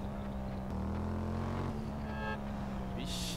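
A motorcycle engine in GTA runs rough and sputters, a continuous droning motor note with uneven surges and pitch shifts, fairly loud and steady throughout.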